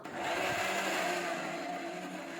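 A kitchen mixer grinder whirs steadily at high speed grinding urad dal batter for medu vada, a loud, even motor drone with a faint grinding rattle and no voices.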